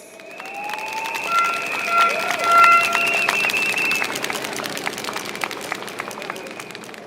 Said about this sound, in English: please give a round of applause to Jacqueline Fernandez